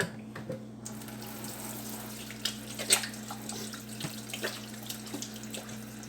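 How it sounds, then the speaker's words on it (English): Tap water runs steadily into a sink while hands are washed after rubbing seasoning into meat in a home kitchen, a constant close splashing with faint clinks and shifts in the flow as the hands move under it. "so now I'm going to wash my hands"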